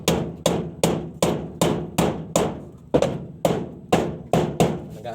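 Steady hammering of nails into a ceiling, about a dozen sharp, ringing blows in an even rhythm, loud and close, with no talking.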